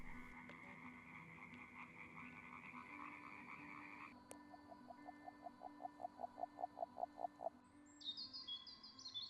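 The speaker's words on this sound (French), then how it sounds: "Beaucoup plus discrets, grenouilles agiles et tritons palmés, eux se retrouvent souvent sur des petites mares sans poissons." Agile frogs at a small fishless forest pond in spring, a faint accelerating series of soft croaks that builds in loudness, mixed with distant birdsong.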